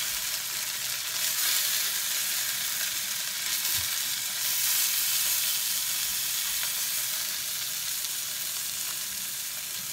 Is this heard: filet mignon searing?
yes